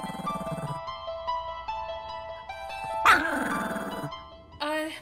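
A little dog gives a few short, high yips and barks amid a busy indoor mix with tonal music-like sounds, the barks brief and fairly close.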